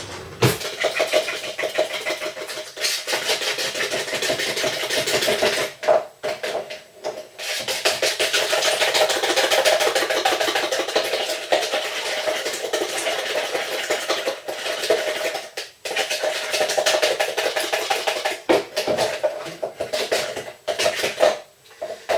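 Egg custard tart mix of two whole eggs and sugar being stirred thoroughly in a bowl, a steady continuous scraping and clinking of utensil against the bowl that carries on for about twenty seconds with a few brief pauses.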